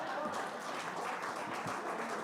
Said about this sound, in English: let's just give a big hand of applause